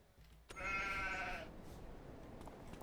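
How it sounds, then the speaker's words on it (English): A single sheep bleats in the Farming Simulator video game, one drawn-out wavering call lasting about a second over a faint steady background hiss. "Is that our... Oh, look at our little sheepy."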